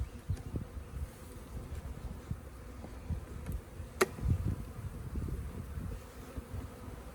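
Low, steady buzzing of many honey bees during installation of a package into an Apimaye hive, a dense hum with a few brief knocks, close by.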